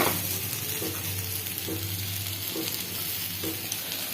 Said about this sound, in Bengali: তার জন্য প্রথমে আলুটাকে তেলের মধ্যে দিয়েছি, অল্প একটু নুন দিয়েছি, নুন দিয়ে আলুটাকে ভেজে নেব